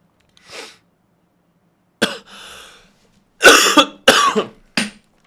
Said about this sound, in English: I'm coughing so loud.